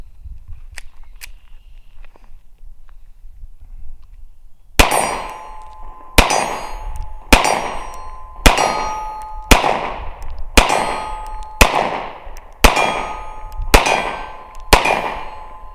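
Sig P365 pistol rounds striking steel targets from 20 yards, ten sharp metallic clangs spaced about a second apart, each ringing briefly after a distant report, following a few quiet seconds.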